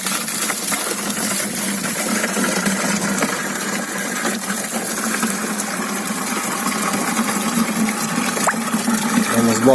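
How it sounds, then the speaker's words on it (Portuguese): Water gushes and splashes steadily into holes dug in the ground to loosen the soil, under the continuous loud drone of a running engine or pump. "Vamos botar água nos buracos."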